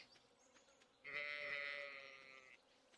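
A cow in the video game Stardew Valley gives one drawn-out, bleating call lasting about a second and a half, rising out of a quiet background and fading at the end.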